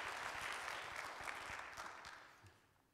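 A church congregation claps during a Sunday service, a broad wash of hand clapping that fades steadily toward the end, heard faintly and from a distance.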